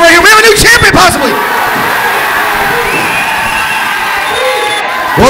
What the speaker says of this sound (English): This crowd is wild.